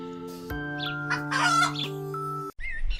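Cartoon chickens cluck and a rooster crows on a farm over a sustained musical tone, the bird calls rising in a loud burst midway before the sound cuts briefly.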